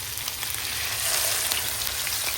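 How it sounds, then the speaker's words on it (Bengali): Hilsa fish frying in oil gives a steady, dense sizzle with a continuous crackling hiss and faint pops throughout, close and fairly loud, with no talking. "বড় বড় তেলে ভাজা ইলিশ, ডিমে ভরা ইলিশ"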